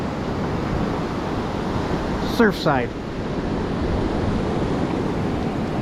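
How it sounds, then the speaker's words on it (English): Ocean surf rolls steadily onto the sand at Miramar Beach, Florida, a continuous wash of waves mixed with wind across the mic, with a brief spoken word near the middle. "Waves are coming in."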